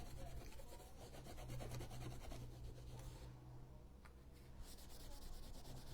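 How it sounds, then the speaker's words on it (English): Sandpaper rubbing steadily back and forth over a wooden farm sign, a continuous close, scratchy abrasion with brief pauses and no talking. "Sandpaper to the rescue."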